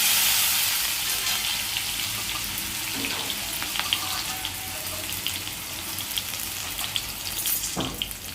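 Small potato pieces drop into hot oil with frying chillies, giving a continuous moderate sizzle with faint watery crackle and a brief knock near the end.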